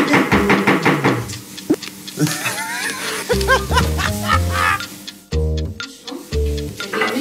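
Knocking on a hotel room door, several bursts of sharp raps separated by pauses, loud and close, with people talking and laughing around it.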